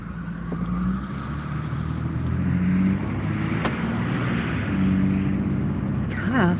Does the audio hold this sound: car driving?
yes